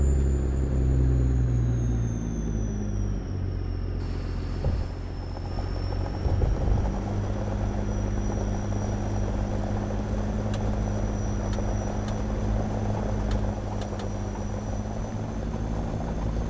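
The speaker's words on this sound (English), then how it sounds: "There's a spray plane going." Spray plane flying over a rural Texas yard between a fuel tank and a shed in American Truck Simulator, a steady droning propeller rumble continuous throughout, heard from inside a truck with engine hum beneath.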